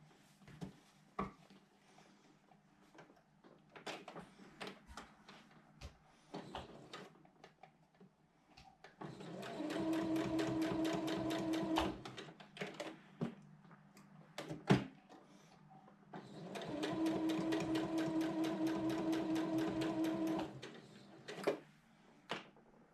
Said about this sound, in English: I'll just kind of over sew from maybe halfway down the pink all the way off the white